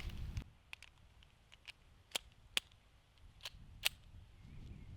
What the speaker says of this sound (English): let's go ahead, put a few shots downrange and warm up